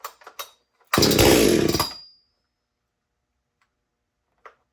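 A Stihl MS250 chainsaw with a 20-inch bar fires on the first pull, roaring loudly for about a second before dying away, preceded by a few sharp clicks and followed by a faint tick and a brief knock.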